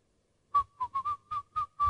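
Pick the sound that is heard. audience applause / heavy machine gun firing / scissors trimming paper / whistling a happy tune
whistling a happy tune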